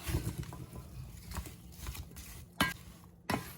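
Ground cherry crumble ingredients being mixed in a bowl, with steady scraping and stirring noises and a couple of sharper clinks near the end, close by and with no talking.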